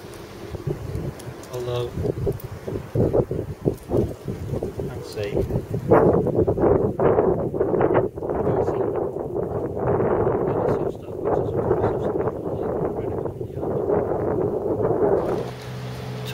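Gusty outdoor wind in Newport buffets the microphone in rough, uneven surges beneath a person talking throughout.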